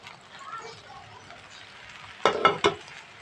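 Chicken vegetable fried rice being stirred in a pan with pre-fried chicken and scrambled egg, a soft sizzle giving way to a cluster of three sharp spatula scrapes and clanks near the end.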